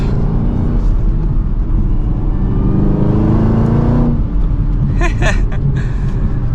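The supercharged V8 of a 2023 Chevrolet Camaro ZL1 pulls hard from first gear, a loud, close, continuous engine roar that climbs in pitch before easing near the end.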